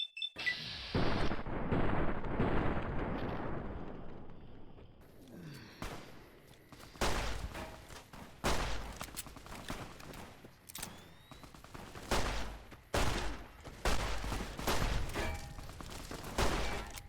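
Gunfire in the video game Fallout New Vegas: a long sustained volley at first, then a series of separate heavy shots and bursts spaced a second or two apart, with faint gasps between.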